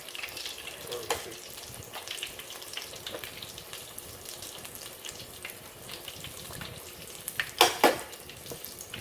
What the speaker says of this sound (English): They're literally only taking just like a few minutes in the fryer.